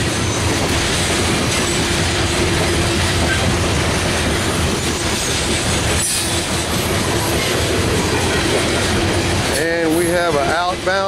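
A Norfolk Southern freight train led by EMD SD40-2 diesel locomotives passes close by, its loud, steady roar of engines and rolling wagons filling the scene, ending with squealing wheels and clattering rail joints.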